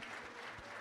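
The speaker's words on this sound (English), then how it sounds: "big round of applause for our Balinese Gamelan" A short burst of dense clapping from a crowd at an environmental awards benefit gala, steady and fairly faint throughout.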